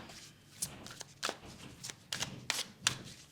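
Tarot cards are laid out and placed over one another on a table, giving a series of soft, irregular flicks and slaps spaced a fraction of a second apart, fairly quiet and close, with no talking.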